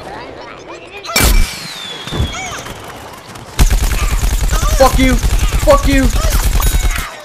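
Rapid bursts of gunfire from the Plants vs Zombies: Garden Warfare shooter, a few sharp shots early then a dense, loud rattling volley of repeated fire, with players shouting over it.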